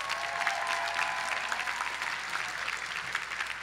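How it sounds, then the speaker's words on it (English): A commencement crowd gives the faculty sustained applause, a steady wash of many hands clapping, somewhat distant and even in level throughout, with no voices over it. "Give your faculty a round of applause."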